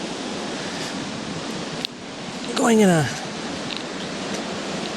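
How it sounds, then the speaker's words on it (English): The Chilliwack River's rapids rush in a constant broad hiss, with a brief spoken phrase and a short rising whistle-like sweep partway through. "We are now down back on the Chilliwack River."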